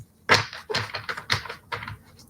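Someone shuffles a deck of cards, giving a run of crisp, separate slapping riffles in quick, uneven succession, close and clear with no talk.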